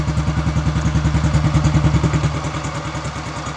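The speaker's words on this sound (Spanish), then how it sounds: "Ya se escucha el motorcito." A Honda Biz C100 motorcycle engine idles close by after being rebuilt with a fairly loud exhaust, a steady rapid chugging pulse with light mechanical clatter, even and unbroken.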